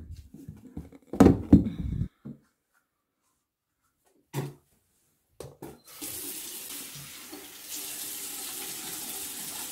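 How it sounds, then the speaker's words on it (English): Bathroom tap water runs into a sink in a home during a child's morning routine: a few clunks and handling knocks first, then a steady hissing stream that starts near the six-second mark and continues to the end. "Turn off the water."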